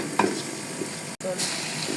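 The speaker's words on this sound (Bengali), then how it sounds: "সরিষার তেল দিয়ে দিলাম। এখন দিয়ে দিলাম পেঁয়াজ, একটু ভেজে নেব।" Onion frying in mustard oil in a pan with bay leaf, cardamom and cinnamon, a soft, close sizzle broken by the scrape of a spoon stirring, briefly and with no talk.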